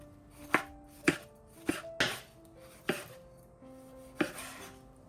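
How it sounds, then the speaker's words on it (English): A tomato roughly chopped with a knife on a board, about seven crisp, close thuds at uneven intervals with short ringing tails and no talk. "I'm going to roughly chop 1 tomato."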